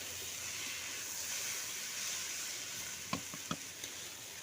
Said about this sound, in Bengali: তিন থেকে চার মিনিট মতন এইভাবে কিন্তু হাই ফ্লেমে নাড়াচাড়া করে নিচ্ছি